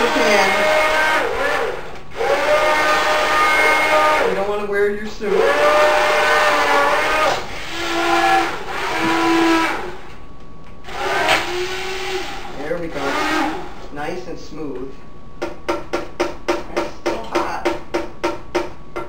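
A loud, steady blender whirs and chops poblano soup for a long stretch, its pitch shifting as the load changes, ending in a rapid stuttering pulse.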